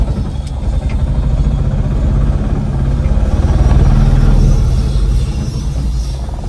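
A vehicle engine idles loud and close as it is pulled to the roadside in rain in Shillong, a low steady rumble that swells slightly midway, with no talk over it.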